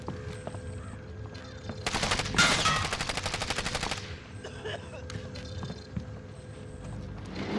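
Rapid automatic gunfire in the Call of Duty Warzone video game, a loud sustained burst of closely spaced shots lasting about two seconds, set against a steady engine-like hum with fainter scattered sounds before and after.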